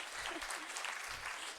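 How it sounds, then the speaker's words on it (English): Audience applause at an ethical and impact investing awards ceremony, a steady wash of many hands clapping that holds evenly for the whole short stretch, with no voices over it. "give them a round of applause."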